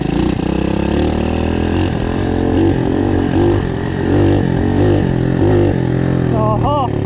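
A Loncin 110/125 motorcycle engine runs on a test before a turbo install, its exhaust note loud and close, pulsing through repeated throttle blips while someone talks over it.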